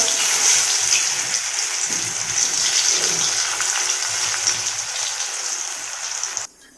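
Continuous hissing of food frying in hot oil, dense and close, holding steady before cutting off abruptly near the end.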